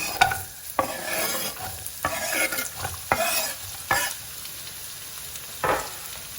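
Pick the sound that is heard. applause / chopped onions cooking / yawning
chopped onions cooking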